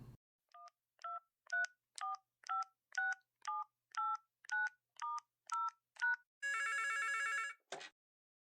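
A telephone being dialed for a call: a run of roughly a dozen evenly spaced two-tone keypad beeps, then a sustained ringing burst and a short final tone, clear and alone with no talking.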